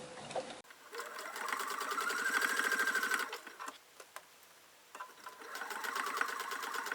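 Sewing machine back stitching slowly through many thick layers of a tote bag, a close, steady mechanical whir that pauses briefly in the middle and then resumes.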